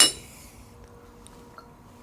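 Drinking glasses clink together in a toast over a ramen meal, a single bright chime at the start that quickly rings out into a faint fading tail.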